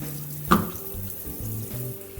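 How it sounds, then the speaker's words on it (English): Tap water running into a kitchen sink during cleaning, a soft steady rush with a brief sharp clatter near the start, close and moderately quiet with no talking. "So I'm just making sure the sink is cleaned well, as well as the stoppers."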